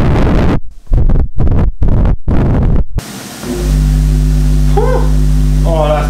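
A church organ pipe fed by a newly wired valve mechanism sounds a loud, steady low booming tone that holds on alone for several seconds after a burst of clattering air and mechanical noise.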